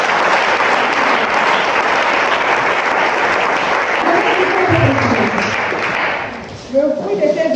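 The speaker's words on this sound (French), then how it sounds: "Est-ce que tu peux acclamer le Seigneur?" A church congregation in Port-Gentil breaks into sustained loud applause and cheering to acclaim the Lord, a dense wash of clapping that fades near the end as voices come through.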